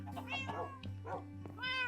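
A cat in the video game Minecraft meows several times in short, close, clear calls with brief gaps, heard alone without talk.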